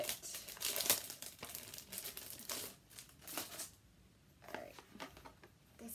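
Plastic packaging from a Disney pin crinkles and crackles as it is unwrapped, a run of close, quiet rustles and crumples with a few sharp tearing bursts and short pauses, no talking.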